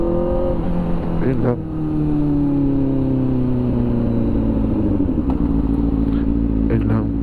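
A Kawasaki ZX-4RR motorcycle engine drones steadily at close range with a rising and falling pitch, a couple of sharp blips cutting through, while someone speaks over it.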